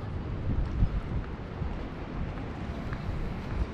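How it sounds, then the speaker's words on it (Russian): Blustery, icy wind by a stormy sea at Lazarevskoye, Sochi, buffets the microphone with low, rumbling gusts, steady and fairly loud, no voices. "Сейчас ледяной ветер, вообще невыносимо."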